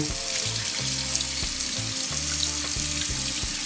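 Rice being rinsed in water with lemon juice in a kitchen sink, a continuous splashing, sloshing wash with a steady hiss, close and fairly loud, no talking.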